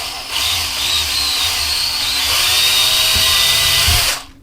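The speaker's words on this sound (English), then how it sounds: "And then you'll take your drill" A power drill whirs steadily at close range for several seconds, drilling a hole, its motor pitch shifting slightly as it bites into material, then winds down.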